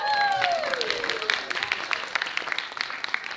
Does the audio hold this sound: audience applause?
yes